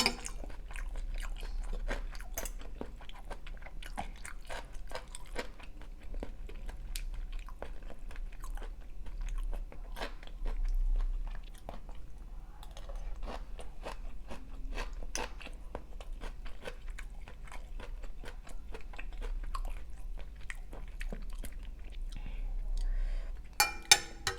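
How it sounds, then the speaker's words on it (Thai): Close, quiet crunching as a crisp vegetable with fried garlic is chewed, with repeated sharp bites and soft mouth sounds in a near-silent room. "กรุบกรอบๆดี"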